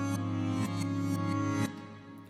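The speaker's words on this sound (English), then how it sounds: "there is this reverse guitar part in between the first drop and the second verse, which sounds like this." A reversed rendered guitar part in an electronic pop production swells continuously with sustained tones and rhythmic pulses that build and then drop off, moderately quiet and without talking.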